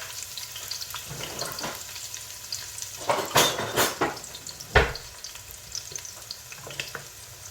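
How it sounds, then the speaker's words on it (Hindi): Onions, garlic, ginger and whole lamb trotters frying in a pot for paya: a continuous soft sizzle broken by a few louder bursts of scraping and clattering as the pot is stirred, close up, without voices. "प्याज डाल देते हैं और इसी के साथ हम अपने पाए भी ऐड कर देते हैं"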